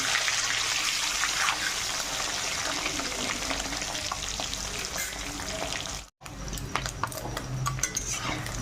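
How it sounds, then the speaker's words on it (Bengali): Eggs frying in hot oil with salt and turmeric make a continuous sizzle while utensils scrape and clink against the pan as the eggs are turned. A brief dropout comes near the end, then the frying resumes. "ডিমটাকে পাল্টে ভেজে নেব"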